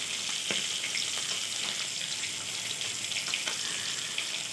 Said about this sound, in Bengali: কিন্তু আমি মাছগুলো ভেজে ফেলে রান্না করছি